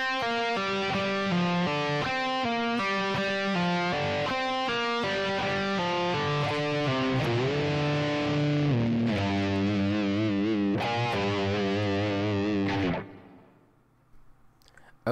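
A distorted electric guitar plays a quick lick of bent and sustained notes, ending in a fade to near silence.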